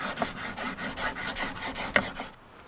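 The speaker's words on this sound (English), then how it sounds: "it is possible to do a proper sharpening in the field with just a DC4" A bushcraft knife is drawn across a DC4 pocket sharpening stone outdoors, giving about a dozen close, steady rasping strokes in an even back-and-forth rhythm before stopping.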